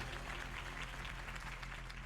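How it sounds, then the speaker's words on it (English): Steady, dense applause from a crowd greeting Harvey Dent's campaign speech in Batman: The Telltale Series, a continuous wash of clapping at moderate distance with no voices over it. "If only Mr. Wayne, my campaign's largest backer, could have heard that applause"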